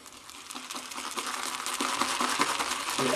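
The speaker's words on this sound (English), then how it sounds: "Dip in water." Shaving brush dipped into water in a shaving scuttle mug, a close, busy wet swishing and crackling with small knocks against the ceramic, steady and dense throughout.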